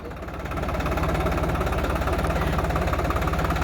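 A New Holland 3600-2 tractor, a 50 hp model with a rotavator attached, runs steadily after starting up. The diesel engine gives a loud, close, even throbbing rumble.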